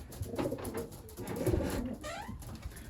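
Racing pigeons coo in a loft holding young birds, soft repeated throaty calls overlapping in a steady murmur with occasional wing or shuffling noises, fairly close.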